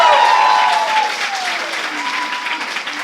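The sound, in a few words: audience applause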